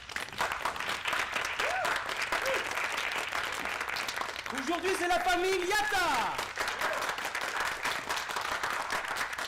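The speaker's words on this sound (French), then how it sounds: "Sous vos applaudissements." Studio audience applauding on a French game show as a new family of contestants is welcomed, a dense steady wash of clapping throughout, with a host talking over it.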